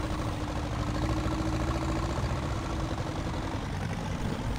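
A tractor engine idles in a survival video game, a steady low mechanical rumble with an even drone throughout and no voices over it.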